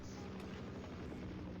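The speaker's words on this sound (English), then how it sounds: "quickly shoot down the helicopter that's up ahead." Steady, dense helicopter rotor drone in the video game Half-Life 2, filling the whole clip, loud and continuous with a low thumping rhythm, no voices.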